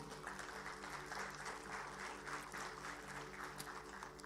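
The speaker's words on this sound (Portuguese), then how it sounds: "Você pode aplaudir o Senhor?" A church congregation applauds the Lord during worship, faint steady clapping from a crowd with a low musical drone underneath.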